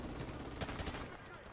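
Rapid gunfire in the video game Call of Duty: Modern Warfare Remastered during a crossfire map fight, a dense burst of shots fairly faint in the mix with no clear gaps.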